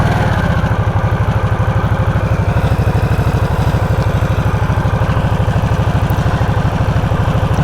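A 2024 Harley-Davidson Nightster Special 975 engine fires up and settles into a loud, close, rhythmic idle with an even pulsing throb throughout.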